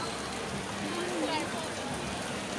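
Rain falling at Universal Studios Singapore, a steady dense hiss of drops on surfaces filling the whole span, with faint voices murmuring underneath.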